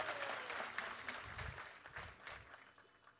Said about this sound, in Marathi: शेवटपर्यंत सगळे टाळ्या वाजवतात, जल्लोष करतात